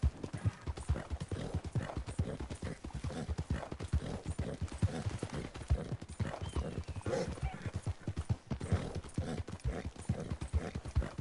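Hooves of an elite Arabian horse in the video game Red Dead Redemption 2 clip-clop at a quick, steady gait, close and clear for over ten seconds, with a possible faint whinny.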